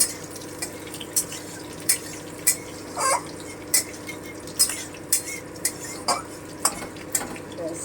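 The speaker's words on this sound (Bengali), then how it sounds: "কাঁচা লঙ্কাটা আছে একটু ভেজে নেব" Green chillies fry in a pan under a soft continuous sizzle while a metal spatula scrapes and taps against it in a dozen sharp, irregular strokes, close up.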